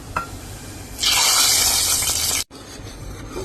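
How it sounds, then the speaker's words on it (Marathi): Hot oil tempering of cumin poured into cooked mashed spinach bhaji, a loud sustained sizzling hiss that erupts suddenly, holds for about a second and a half, then cuts off sharply, with quieter kitchen noise around it. "तेल गरम झाले की पालकमध्ये टाका"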